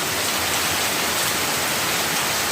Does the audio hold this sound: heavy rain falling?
yes